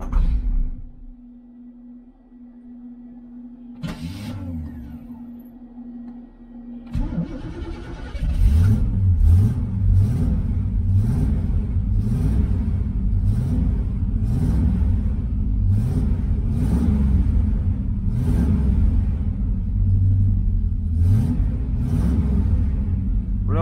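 A 1985 IROC-Z engine fitted with a Chinese knock-off carburetor, first a low hum, then a rumble that settles into a loud, steady idle with a rhythmic pulsing tick, heard up close without talk.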